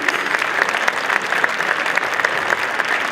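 Continuous dense applause from an audience at a regional newspaper's sports awards ceremony, loud and even with no breaks throughout.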